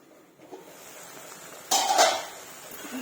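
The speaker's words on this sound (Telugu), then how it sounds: "ఒక 2 నిమిషాలు అయితే మూత పెట్టి ఉంచుకుందాము." A lid set on a pot of curry makes one sharp metallic clank, with a short ringing rattle after it against a quiet kitchen background.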